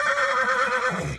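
A horse at a livestock fair in Balotra, Rajasthan gives one loud, close whinny lasting about a second, its shrill quavering call fading at the end with no talk over it.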